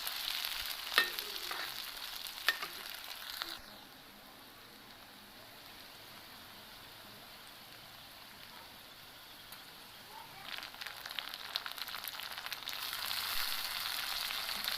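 Crushed ginger, garlic and green chillies fried and stirred in a pan, a soft sizzle with scraping strokes that drops to a quiet hiss midway before the stirring picks up again.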